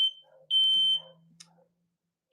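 A smoke alarm chirps in sharp, loud, high beeps, one burst near the start, a longer tone mid-clip and another at the end, with faint background sounds between.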